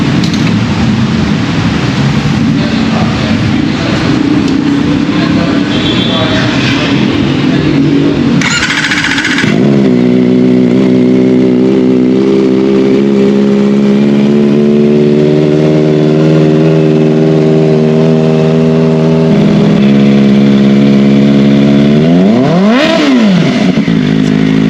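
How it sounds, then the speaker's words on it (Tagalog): A Kawasaki ZX4RR 2024 KRT Edition motorcycle fitted with an Austin Racing slip-on muffler idles loudly, then revs up and holds a steady high-pitched inline engine whine, ending with a sharp rise and fall of a final rev. "Let's do a sound check. Kawasaki ZX4RR Austin Racing muffler slip on"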